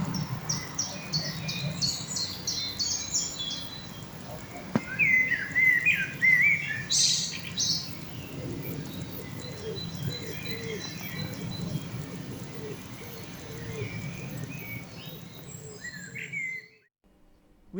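Forest ambience thick with birdsong: varied chirps and tweets overlap above a constant low rustle and insect hum, with a faint snap partway through, steady throughout before cutting off near the end.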